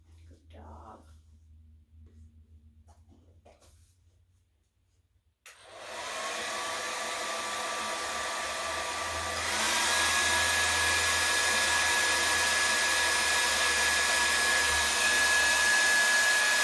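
A hair dryer switches on after a few quiet seconds, blowing with a steady whooshing hum, then jumps to a louder, higher-pitched setting and keeps running.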